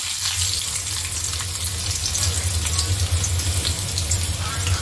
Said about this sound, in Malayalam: കടുക് പൊട്ടി വന്നിട്ടുണ്ട് നമുക്ക് കുറച്ച് ഉള്ളിയും കൊടുക്കും